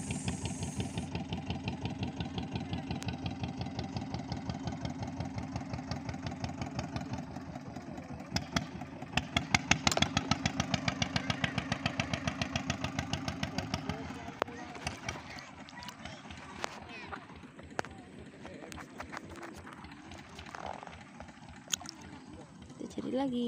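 A small boat's engine runs steadily with a rhythmic chugging, then fades and becomes irregular, heard over wind and water in an open outdoor setting.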